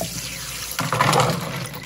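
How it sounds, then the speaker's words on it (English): Soaking water is poured off overnight-soaked pinto beans into a sink, a steady close splashing stream that swells briefly louder midway. "I'm going to pour the water out"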